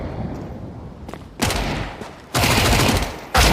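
MAC-10 submachine gun fire in Counter-Strike, several loud rapid bursts that grow longer and denser, the final one starting abruptly at close range.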